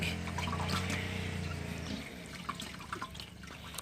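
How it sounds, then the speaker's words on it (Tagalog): Water is scooped from a home fish tank with a small net, giving a faint pouring and sloshing that settles into scattered drips and light splashes. "so kinukunan pa to natin ng tubig"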